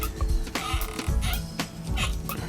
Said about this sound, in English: Lots of squeaking